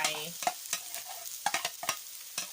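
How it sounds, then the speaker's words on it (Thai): Leftover cooked rice goes into a pan with scrambled egg for Thai-style egg fried rice, giving a run of close, irregular scraping stirs and clatters over a faint sizzle. "นี่เมื่อไข่สุกดีแล้วนะคะก็ใส่ข้าวลงไป"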